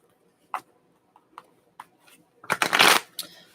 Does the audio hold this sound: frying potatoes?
no